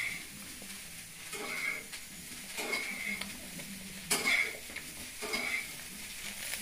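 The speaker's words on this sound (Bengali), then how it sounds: "ফুলকপিটা ভেজে দিয়েছি" Cauliflower fries in a pan with a soft, moderate sizzle, broken by several rhythmic scraping stirs and a louder clatter near the middle, with no talk.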